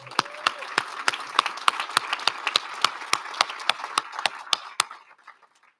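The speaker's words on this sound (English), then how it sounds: "Can we give an applause to everyone that is on the panel again?" Audience at a Martin Luther King Jr. annual celebration applauds the panel, a burst of distinct, sharp claps from a modest crowd that thins out and stops near the end.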